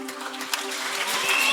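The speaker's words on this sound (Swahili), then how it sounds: "Makofi makubwa. De grandes acclamations." Church congregation applauding during a prayer service, with a broad, steady wash of clapping that grows slightly fuller toward the end over a faint low hum.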